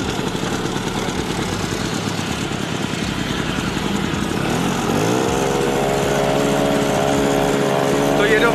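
A small LML scooter engine runs steadily at a rattling idle, revving slightly higher partway through, loud and close with no talking.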